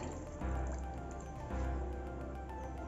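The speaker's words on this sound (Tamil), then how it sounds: "இப்போ நான் மிக்ஸி ஜாரில் இருக்கிற தண்ணி ஊற்றுறேன்." Water poured from a mixer jar into chicken curry (chicken kulambu) in a pot, liquid splashing and dripping in two surges over a cooking background.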